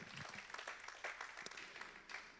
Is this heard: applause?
yes